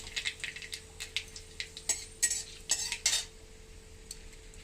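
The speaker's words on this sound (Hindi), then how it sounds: "तेल गरम हो गला न इथे आमे टिके सरसों दे देमा।" Mustard seeds crackle in hot oil in an Indian home kitchen, a quiet run of sharp pops and clinks with metal utensil taps scattered through the sizzle and no voices.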